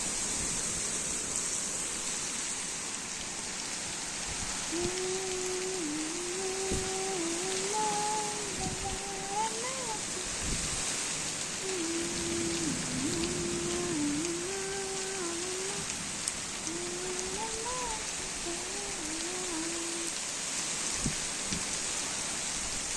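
Heavy rain pours in a dense, unbroken hiss, with a wavering tonal call rising above it now and then and a few sharp drips or knocks.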